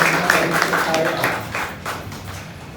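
A worship congregation claps together to praise the Lord during a midweek church service, the steady patter of hands running throughout, with a voice talking over it.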